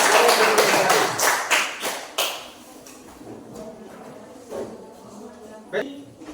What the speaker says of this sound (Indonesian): tepuk tangan yang ketiga untuk kelompok